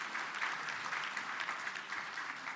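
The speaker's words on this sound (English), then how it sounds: "A round of applause to Lynn Greer." An audience at a champagne brunch applauds steadily, a dense even patter of many hands heard from some distance, fairly faint, with no talk over it.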